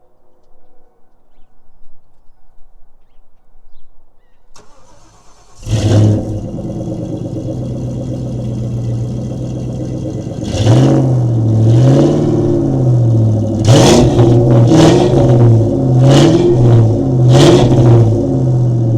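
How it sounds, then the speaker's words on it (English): A car engine cold-starts after a quiet lead-in, catching abruptly and settling into a steady idle, then revving repeatedly in several rising and falling bursts, loud and close, with no talking. "I finna record this cold start"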